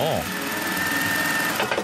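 A sewing machine stitches hanbok fabric in a Jeonju workshop, its rapid, steady mechanical whir running close and loud while a voice speaks over it.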